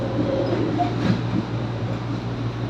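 An American double-deck train produces a steady, moderate low rumble with a faint mechanical hum, fairly even throughout and without clear voices.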